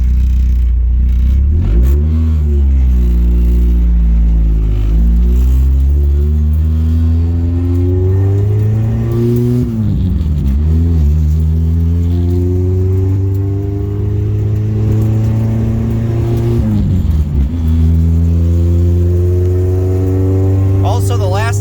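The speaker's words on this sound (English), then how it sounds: "I'm gonna drive down the road a little ways" A Honda car with a swapped engine revs up repeatedly while driving down a road, pitch climbing through each gear before dropping at the shift, loud and close throughout.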